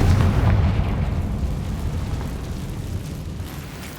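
A Confringo fire spell explodes in the video game Hogwarts Legacy: one loud, deep boom hits at once and then rumbles and fades slowly over several seconds, with no voices.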